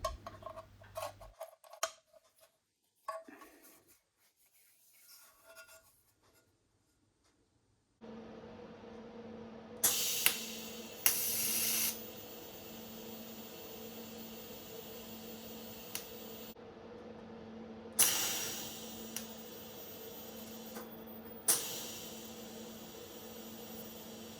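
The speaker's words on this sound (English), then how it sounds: "then I can tack weld it at both ends and then run a weld down the whole length" Welding a seam along a handmade replica exhaust pipe for a Honda RC374 six-cylinder motorcycle: a steady broadband hiss with several sharper crackling bursts, close and moderately loud, following some quieter workshop handling sounds.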